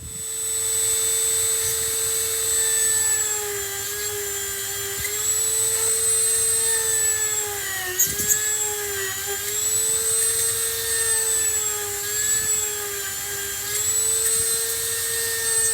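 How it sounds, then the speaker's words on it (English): A drill press bores string holes through a custom Telecaster guitar body, giving a steady, loud high-pitched whine that holds for the full stretch and dips briefly midway as the bit bites in, with no talking. "then we'll take it over the drill press and go all the way through the body"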